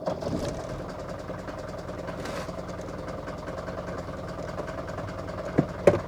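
A Mercedes-Benz 240TD diesel engine idling out of gear after a clutch change, a steady rapid low clatter with a couple of brief clunks near the end.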